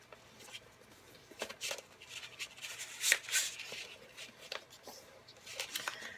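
Paper card holder flaps being folded in for a one-sheet card and holder set, with soft crisp rustles and taps scattered through, a brighter crinkling burst near the middle, close and fairly quiet.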